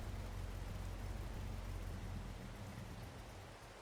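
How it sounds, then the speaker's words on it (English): Steady, dense rain falls across a farm in Farming Simulator 22, a continuous hiss with low rumble that holds close and loud throughout, easing slightly toward the end, with no voices. "With it raining today, I don't think there's much left for us to actually do."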